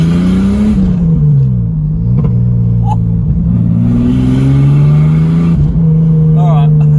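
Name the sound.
car with 6-cylinder 4-litre engine and T5 manual gearbox revving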